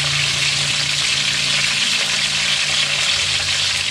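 Food sizzles and crackles steadily in a hot pan, a loud continuous hiss with no talking.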